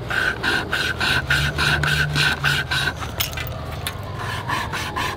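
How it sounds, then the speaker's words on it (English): A survival-kit saw from a Kizlyar Supreme Russian kit cuts a piece of wood in steady, rhythmic back-and-forth rasping strokes, close and loud, about nine strokes before it trails off into a rougher scrape. "I'm just gonna saw like this."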